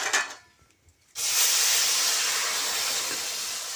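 After a quiet moment, a sudden loud hiss bursts up as spices hit hot oil with cumin seeds in a kadhai, then a steady close sizzle continues, slowly easing.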